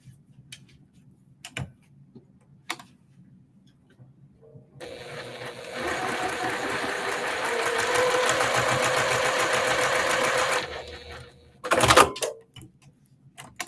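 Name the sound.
sewing machine stitching a quilt block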